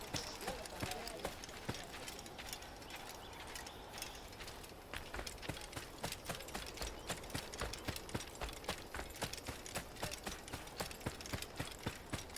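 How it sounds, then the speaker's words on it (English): Galloping horse hooves in the Assassin's Creed video game, a steady rapid clip-clop of many beats running through the whole stretch at moderate loudness, with game ambience beneath. "My fucking horse."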